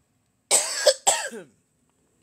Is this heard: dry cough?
yes